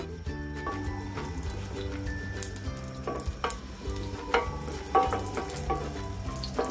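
Shahjeera and garam masala fry in ghee and butter oil with a continuous crackling sizzle and occasional stirring clinks, heard under steady background music.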